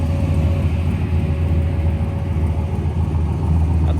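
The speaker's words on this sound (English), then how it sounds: "Nice little 6-liter turbo with a 5-speed manual 4-wheel drive." A turbocharged 6.0-liter engine swapped into an OBS four-wheel-drive truck with a five-speed manual runs at a steady idle, giving a continuous low, even rumble with no talking.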